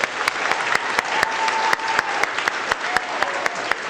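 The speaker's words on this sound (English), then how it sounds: "round of applause for Paulo Lozano." An audience gives a round of applause at the kick-off event for a CubeSat STEM program, steady dense clapping filling the room for several seconds with a few louder individual claps standing out.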